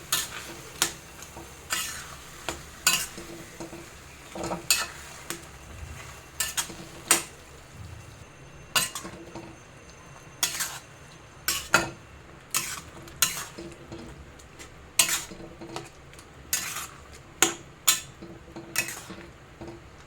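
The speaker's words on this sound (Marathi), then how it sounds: "आता आपण चांगलं व्यवस्थित मिक्स करून घेऊया" Grated raw mango and jaggery are stirred in a pot for kairi gulamba, a steady run of rhythmic metal spoon scrapes and knocks against the pot, close and clear, with a faint bubbling underneath.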